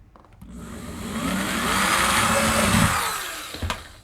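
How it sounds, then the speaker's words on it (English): Power drill boring a 1/4-inch hole for a plastic anchor during closet installation, a whirring motor that rises, holds steady for a couple of seconds, then winds down, close and moderately loud. "Now we'll drill a 1/4-inch hole here."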